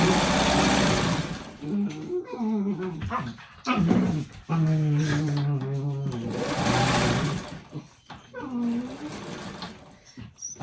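Several dogs whimper and whine in a steady vocal stream in a home sewing room, with a sewing machine running continuously and short yips among the whines, loud and close throughout.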